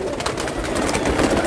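Ooda pigeons, high-flyer birds in a loft in Tonk, coo in a dense, steady, close murmur over broad background noise.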